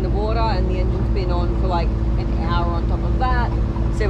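A Yanmar 3YM30 diesel engine runs aboard a sailboat under way, a steady low throbbing drone that continues throughout while a person talks over it.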